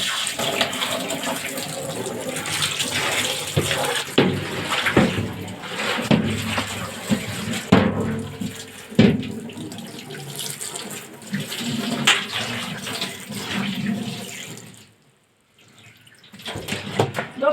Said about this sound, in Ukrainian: Далі зливаємо воду. І прополочуємо чистенькою водичкою.